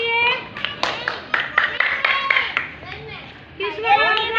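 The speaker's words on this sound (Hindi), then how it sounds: "ताली बजाओ इसके लिए।" Schoolchildren in a classroom clap together for a classmate, a ragged burst of hand claps mixed with children's voices and an adult talking over and between them.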